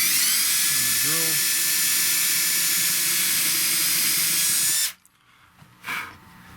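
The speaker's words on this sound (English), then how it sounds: "you're going to drill one of the screws on the end" Power drill driving a screw into a Strat-style guitar while fitting an Adjustanut, a loud steady whine running for about five seconds before stopping abruptly, followed by a brief fainter burst.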